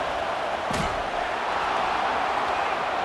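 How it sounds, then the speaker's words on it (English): Dense, steady roar of a packed college football stadium crowd in the College Football 26 video game, a constant loud wash of cheering with one brief thump early on. "listen to this crowd noise. This stadium is vibrating."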